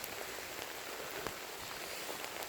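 Rain falling steadily during a hiking bivouac, a soft, even patter of drops on nearby surfaces with a few slightly louder taps, close and quiet, no voices.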